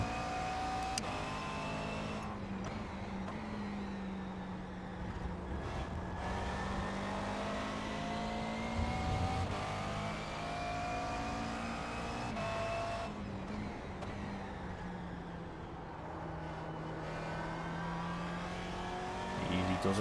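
A race car engine in a racing game holds a steady droning note that rises and falls with the throttle, continuous and fairly loud for the whole stretch, with someone talking over it now and then.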